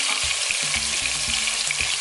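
Chicken pieces seasoned with onion powder fry in hot oil, giving a loud, dense hissing sizzle with rapid crackling splatter and soft low knocks, close up and without any talking.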